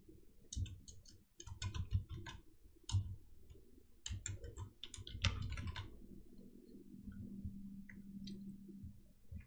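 Fingers tap a computer keyboard while text is entered into a slide, quick clusters of light, close keystroke clicks with brief pauses between bursts, no talk.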